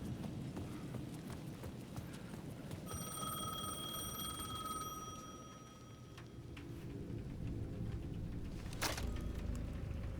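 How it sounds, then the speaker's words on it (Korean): A payphone rings in the video game Alan Wake 2, its steady tonal trill sounding in the middle of the clip over a dense, rumbling ambient game soundscape, with no voices present. "The payphone at the edge of the plaza was ringing again."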